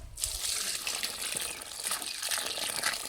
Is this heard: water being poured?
yes